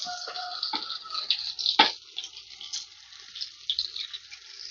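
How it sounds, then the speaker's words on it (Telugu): Pieces of okra slide into hot cooking oil and set off a crackling, spitting sizzle with sharp pops, close by and fairly faint, with no talking. "ఆయిల్ కాగింది ఈ బెండకాయ ముక్కలు వేసేస్తున్నాను దీంట్లో"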